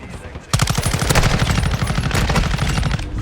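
Rapid automatic gunfire in Call of Duty: Modern Warfare II, a loud, close burst of evenly spaced shots that starts abruptly and holds steady for a few seconds.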